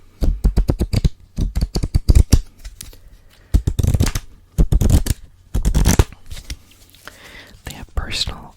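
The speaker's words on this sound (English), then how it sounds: "But you can flip through the cards." A deck of playing cards is flipped through by hand close up, a series of quick crisp riffling snaps in short clusters with brief pauses, followed by soft whispered speech.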